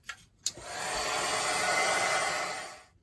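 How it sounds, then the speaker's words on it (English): Heat gun blasting hot air to dry a painted art journal page, a steady loud whooshing blow starting after a brief click and running about two and a half seconds before cutting off. "Then we'll give that a quick blast with the heat gun."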